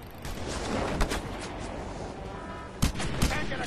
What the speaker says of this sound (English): Snipers! Take them out, Scorpio!